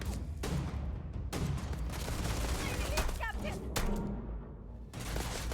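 Enemy gunfire in the space game Starfield: sustained, dense bursts of shots running almost unbroken through the stretch, with a few brief lulls, fairly loud and continuous, while a person talks over the shooting.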